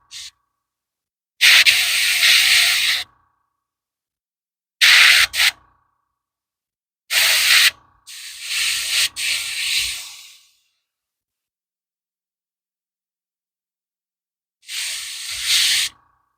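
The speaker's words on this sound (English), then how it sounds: "I try to only use airbrush paints in my airbrushes" Airbrush hissing out heavily thinned paint during priming of Warhammer miniatures, in five separate bursts of one to three seconds each with silent gaps between, steady and fairly close.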